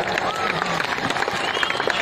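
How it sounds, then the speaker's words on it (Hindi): A crowd claps continuously at a Holi Milan gathering at Bhukailash maidan, a steady patter of many hands outdoors mixed with crowd noise and a voice speaking over it. "जोरदार ताली बजा दो।"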